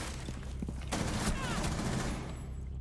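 Gunfire in Rainbow Six Siege ranked play, shots coming down from above: a dense fusillade of rapid in-game shots, loudest in the middle, over a constant game backdrop, with no one talking.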